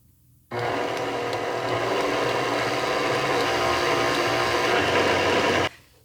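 Stand mixer kneading yeast dough for vanilla pudding buns, a steady motor whir that starts abruptly, runs evenly for about five seconds, then cuts off, close and alone.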